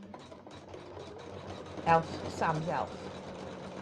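An embroidery machine runs close by, finishing a blanket stitch around an appliqué with a steady mechanical whir while someone briefly speaks over it.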